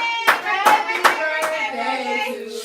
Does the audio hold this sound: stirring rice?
no